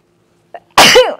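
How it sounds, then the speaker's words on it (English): A single sneeze from a woman, preceded by a short sharp inhale, then one loud, close, explosive burst that trails off quickly after near silence. "I gotta sneeze."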